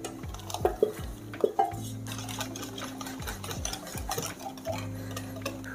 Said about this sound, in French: Je mélange vigoureusement pour avoir un mélange bien homogène.